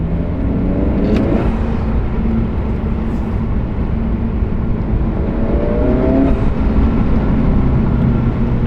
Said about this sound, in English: Turbo sound is more noticeable down low.